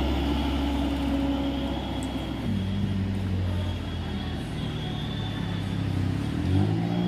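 A Colt Diesel truck engine labouring up a hill on a curving road, a loud steady low diesel drone with a gear change partway through, then continuing to pull under strain.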